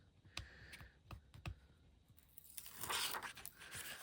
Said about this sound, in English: Let's just peel it off.